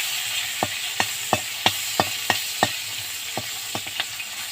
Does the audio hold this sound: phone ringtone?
no